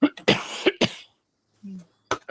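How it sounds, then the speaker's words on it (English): Several harsh, close coughs in quick bursts, followed by a brief murmur and one more short cough. "Would you guys all stop coughing?"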